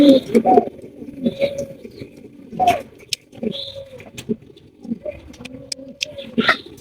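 Pigeons at a pigeon farm coo repeatedly in soft, throaty bursts, close by, while a person talks over and between the calls.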